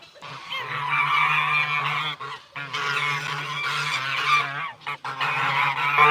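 Geese at an animal sanctuary honk loudly and continuously at close range, in several long overlapping bursts separated by brief pauses.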